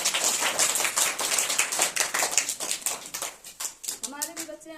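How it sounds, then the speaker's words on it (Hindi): Audience at a school parents-teachers meeting clapping, a dense run of sharp hand claps thinning out toward the end, with a voice starting to speak as it fades. "ताली बजाइए भाई।"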